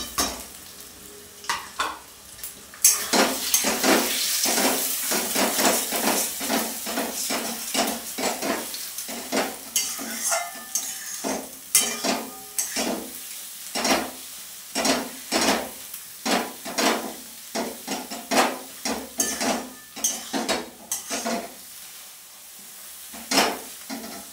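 Onions with salt and chili fry in a pan for egg curry, a steady sizzle broken by repeated sharp clinks and scrapes of a utensil stirring against the metal, close and fairly loud throughout.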